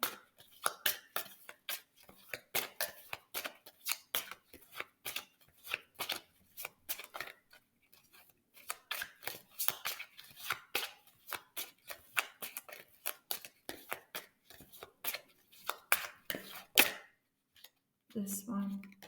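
Tarot reading cards are shuffled by hand in quick, irregular bursts of crisp riffling and tapping, close and fairly quiet, with short pauses between runs.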